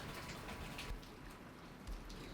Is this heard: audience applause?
no